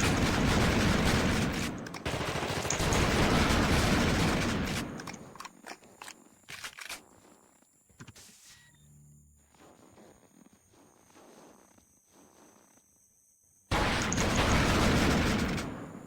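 Shotgun fire in The Thing Remastered video game comes as a dense burst of loud blasts, then quieter sparse hits and thuds, before another loud barrage erupts near the end.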